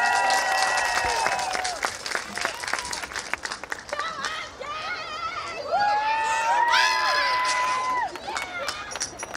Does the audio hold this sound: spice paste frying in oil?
no